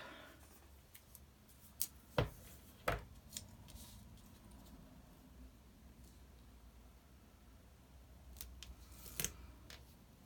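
Tape is cut and handled during a craft project, a few quick snipping and tearing snaps scattered over a quiet room background, with soft rustles between.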